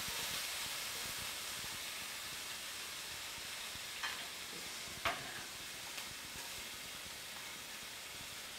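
Diced onion sizzles in a hot, oiled skillet, giving a steady, soft hiss across the whole stretch, with a couple of brief clicks of a utensil midway; fairly faint and with no talking.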